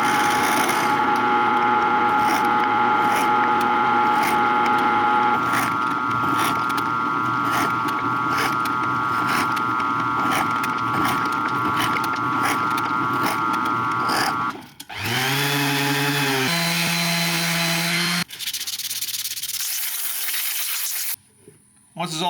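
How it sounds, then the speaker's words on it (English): Drill press boring a series of brad-point holes into wood: a steady, loud motor whine with rasping cutting texture runs through most of the clip, then shifts in pitch as the bit spins down, followed by quieter bursts and brief silences. "now all I need to do is just line up the brad point with the little indents I already made and drill all my holes"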